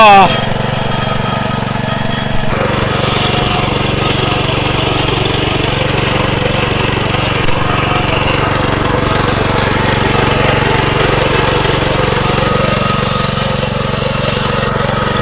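A small engine runs loud and close, chugging steadily without pause throughout.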